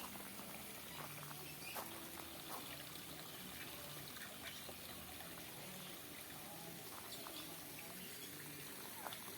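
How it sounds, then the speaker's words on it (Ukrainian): Steady trickling and gurgling of water flowing out of a small pool in a poultry yard, continuous and fairly close, with a faint voice or two in the background. "Там з того маленького басейна витікає вода."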